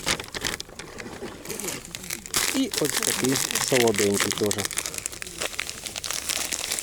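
A plastic fishing bait packet crinkles and rustles up close while a person talks over it, with a brief tearing-like crackle in the middle, on a riverbank.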